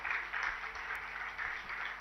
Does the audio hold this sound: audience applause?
yes